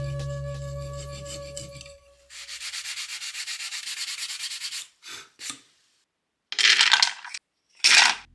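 Sanding of identical wooden box parts together, heard as repeated rasping strokes at close range: steady rubbing for about three seconds, then shorter separate bursts with pauses between them.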